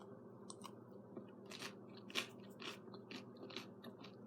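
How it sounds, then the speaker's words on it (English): Quiet, close crunching bites and chewing of crisp toast with peanut butter and jelly, a few sharp crunches in irregular rhythm with no talking. "Hear that crunch?"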